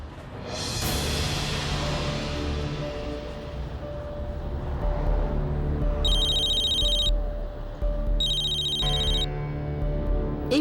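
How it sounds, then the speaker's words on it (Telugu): A telephone ringtone in an indoor drama scene, two bursts of repeated electronic ringing that stand out over a steady background of music and ambience, loud and near. "ఈ బుల్బుల్ నాకెందుకు ఫోన్ చేస్తుంది?"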